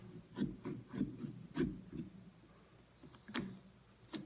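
A knife saws and scrapes through a pumpkin's rind while a face is carved, giving a series of rough rasping strokes and soft ticks in irregular rhythm, close and fairly quiet.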